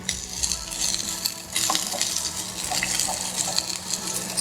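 Capsicum sautéing in an oiled pan for paneer podimas, a soft steady sizzle under repeated stirring, with light metallic clinks of a spatula against the pan and no talking.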